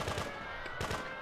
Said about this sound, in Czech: Tady někdo střílí.